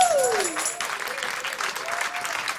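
Applause for a tango accordion player: a live crowd claps steadily and evenly throughout, with a brief descending tonal sweep at the start.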